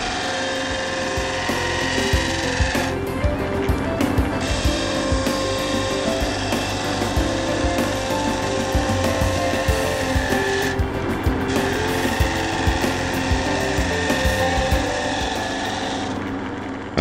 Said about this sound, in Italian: Con la sgorbia a profilo scaviamo la parte esterna, facendo grande attenzione e procedendo con delicatezza.